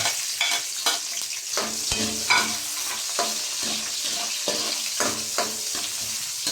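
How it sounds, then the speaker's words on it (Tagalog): Onion and ginger sizzle steadily in hot oil while being stirred for ginataang kuhol, a Filipino snail dish; a constant frying hiss sits under intermittent scraping strokes of a utensil against the pan, close and without speech. "Sabay-sabay na to, sibuyas, tsaka luya."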